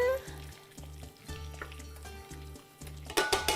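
Flour cooks in melted butter in a pan, giving a soft, low sizzle under steady rhythmic background music, with a few brief sharper scraping bursts near the end.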